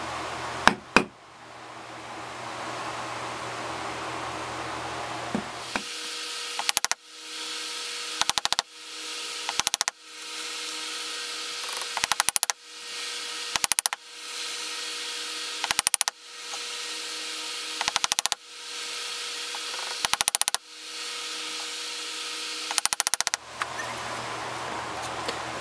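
A mortise is cut in wood for a walking cane held in a vise, heard as a near, repeated power-tool whir in short bursts of a second or two, separated by brief pauses, with no talk.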